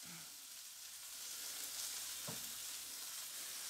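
Meat browns in a hot pan with a steady, bright sizzle for a few seconds. A brief clunk sounds partway through, and the frying stays even and moderately loud.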